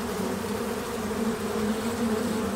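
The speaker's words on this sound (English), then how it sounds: "Each of these is a honeybee hive" Honeybees swarm around a row of hives, a dense continuous buzzing drone, steady and close, with no voices.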